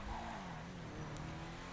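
Übermacht Rhinehart car engine in GTA 5 humming steadily with a low droning tone, close and even throughout, without talk.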